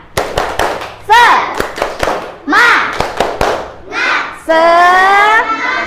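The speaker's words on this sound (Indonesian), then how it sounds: "Sebelumnya kita tepuk semangat dulu deh." A first-grade Islamic studies class does a rhythmic spirit clap, with sharp groups of claps alternating with the children's loud chanted voices, ending in a sustained shout.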